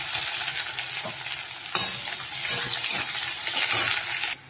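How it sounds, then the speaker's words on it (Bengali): Chopped onion dropped into hot oil with a dried red chilli and bay leaf, tempered with garam masala: a loud close sizzle that swells sharply as more goes in, with crackling and utensil taps, then cuts off abruptly at the end. "একটা শুকনো লঙ্কা, তেজপাতা দিয়ে পেঁয়াজ কুচি দিয়ে দিচ্ছি"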